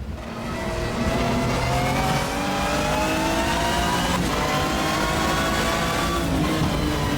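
Touring car engine in the sim racing game Race 07, a steady loud high-revving drone that climbs through the gears with shifting pitch, close and continuous with no talk.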